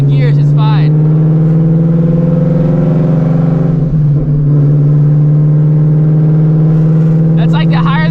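A 900-horsepower Shelby GT350 accelerates hard through the gears, its loud close-up engine note climbing steadily in pitch with a brief dip at a shift, while someone talks over it.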